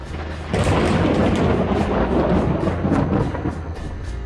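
Thunder from a dangerous storm rolls in with a sudden loud crack, then a long, heavy rumbling roar that stays strong and steady for several seconds with no talk.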